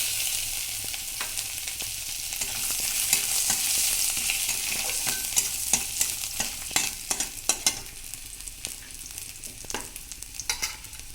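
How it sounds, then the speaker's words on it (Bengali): Cumin, bay leaf and chopped ginger crackle in hot oil left over from frying fish, a bright steady sizzle that gives way to a rapid series of sharp pops and spatters. "ওই তেলের মধ্যে দিয়ে দিচ্ছি জিরা আর তেজপাতা ফোড়ন আর সামান্য আদা কুচি।"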